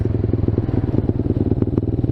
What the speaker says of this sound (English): I definitely gotta get a different exhaust for this thing. It's kind of loud